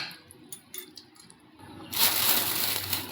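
Faint clinks and light kitchen clatter give way to a wet, sizzling splash as boiled goat trotters are poured into a hot pot of oil, continuing as a steady hiss.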